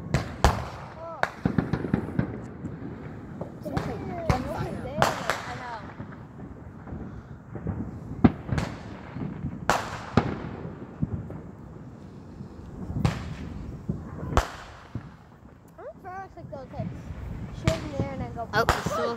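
Fourth of July fireworks burst in a neighborhood at night, a long irregular string of sharp cracks and booming explosions at varying distances, some crackling, with people chatting quietly between the blasts.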